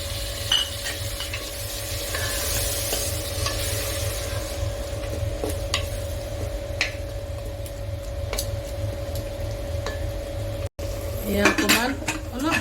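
Water goes into a hot pan of chicken curry masala and sizzles while a spoon stirs and scrapes, with repeated metallic clinks against the pan over a constant frying hiss.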